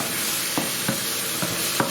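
Lamb and potato balti sizzles in a pan while coriander powder, salt and Kashmiri methi are stirred in. Four brief scraping strokes of the spoon rise over a loud, continuous frying hiss.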